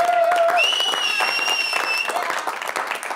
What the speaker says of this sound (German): ihr dürft schon mal ein bisschen klatschen